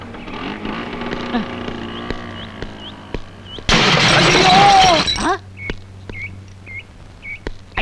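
A scooter accident crash on the road: a low engine hum is broken by a sudden loud burst of crashing and shattering that lasts about a second and a half, followed by quieter surroundings with faint chirping.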